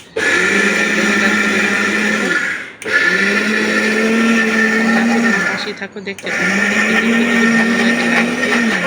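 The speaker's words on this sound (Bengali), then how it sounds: "দেখো ব্লেন্ডার করে নেওয়া হইতেছে এখন" A blender grinds soaked rice in a loud, steady whir that runs in long bursts with two brief pauses, while someone speaks over it.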